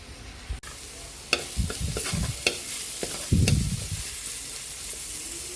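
Garlic frying in butter in a pan, heard as a steady close sizzle with scraping stirs and clinks of a utensil against the pan.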